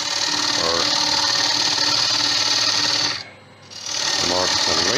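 A wood lathe hollows out a small wooden peanut bowl, the gouge making a loud continuous rasping, shearing hiss that drops away briefly as the tool lifts and then resumes.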